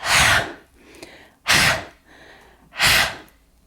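Three slow, deep breaths, each a loud airy rush about a second and a half apart, with quieter pauses between them.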